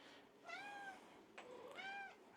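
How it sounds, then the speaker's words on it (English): A house cat meows twice for treats in a home bathroom, two clear drawn-out calls about a second apart, close and alone with no talk. "And a cat still wanting treats."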